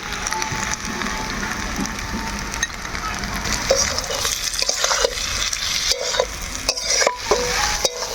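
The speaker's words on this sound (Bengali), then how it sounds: "শলা কচুগুলো দেওয়ার পরে ভালোভাবে শলা কচুলা কষে নিব" Taro pieces (kochu) being stirred and sautéed with spices in a pan for a curry with lata fish: steady close sizzling with scraping and clinking of a spatula, growing more percussive toward the end.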